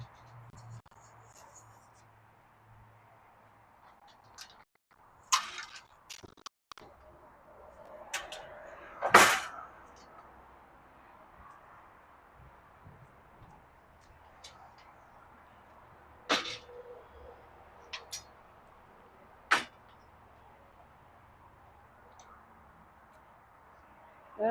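An RV's fold-out patio system being folded and closed, giving a handful of sparse, sharp clicks and clunks over a quiet background.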